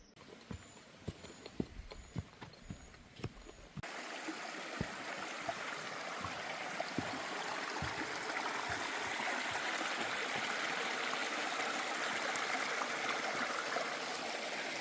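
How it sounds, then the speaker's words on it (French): A mountain stream above the Cascade d'Angon waterfall flows in a steady rushing wash that fills in after a few seconds, preceded by a series of sharp clopping footstep-like knocks; no voices are heard. "on est au-dessus de la cascade d'Angon en fait. C'est de l'eau qui va descendre dans la cascade"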